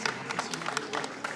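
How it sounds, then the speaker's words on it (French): An audience at a Wallonia and Wallonia-Brussels Federation festival ceremony applauds. The clapping is fairly faint and slightly distant, with scattered, uneven bursts of claps across the whole stretch. "merci de l'applaudir encore une fois"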